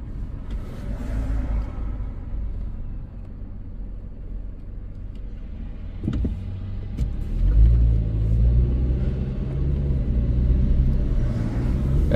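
A car driving along Valley Road in Clifton and Montclair, New Jersey, heard from inside: a steady low engine and road rumble with a swell of acceleration partway through, and passing traffic noise, with no talk.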